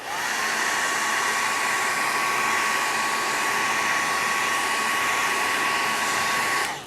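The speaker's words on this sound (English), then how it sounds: "since we're pressed for time, I'm gonna use my hair dryer." A hair dryer runs continuously at full blast, a loud steady whooshing roar with a faint whine, no talking.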